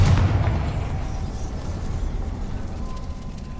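A Confringo blasting spell explosion in the Hogwarts Legacy video game: a deep, loud boom at the start that trails off into a long rumbling decay, with no voices.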